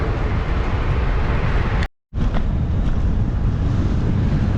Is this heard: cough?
no